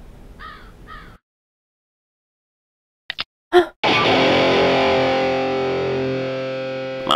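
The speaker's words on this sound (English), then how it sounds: "the bandits couldn't make an appearance without some really loud electric guitar." Loud, heavily distorted electric guitar from the bandits' theme in the video game Minushi. A few faint chirps and short stabs lead into one sustained, gritty chord that rings out.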